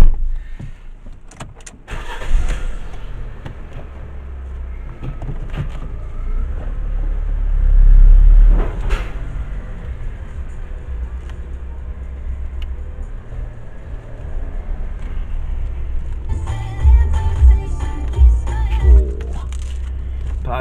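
A Ford Ka III on a test drive after a rattle repair gives a steady low engine and road rumble from inside the cabin. Scattered clicks and a brief mechanical whir come near the end.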